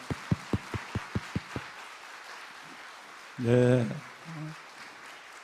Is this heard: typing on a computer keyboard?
no